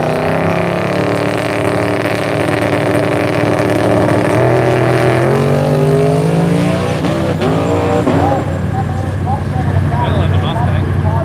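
A Ford Mustang drag car at an Australian radial drag racing event roars loud and close. Its engine pitch climbs and falls through rapid revving as it launches, with an announcer talking over it.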